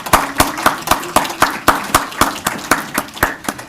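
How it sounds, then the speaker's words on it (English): Sparse applause for volunteer leaders at a blood-clot awareness forum in Boston, distinct sharp claps in a loose even rhythm, fairly close, a small group rather than a full crowd. "Great volunteer leaders, and give them a round of applause."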